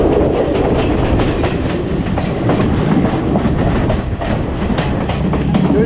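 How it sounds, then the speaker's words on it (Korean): A passenger train running on the rails toward Haputale in Sri Lanka, heard from inside a carriage with a steady loud rumble and rhythmic clickety-clack of wheels throughout, no talking. "저는 이제 해튼 가는 기차를 탔습니다"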